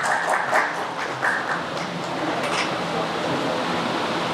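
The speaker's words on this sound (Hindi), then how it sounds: "आपकी ज़ोरदार तालियों में।" Audience applause as a senior lawyer is welcomed onto the stage at a conference on minority rights in Pakistan, a broad steady wash of clapping from a crowd that continues to the end.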